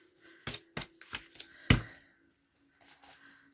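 Scissors snipping through paper while assembling a Valentine journal, a handful of sharp separate cuts close by with one louder final snip, then a brief pause and faint rustling.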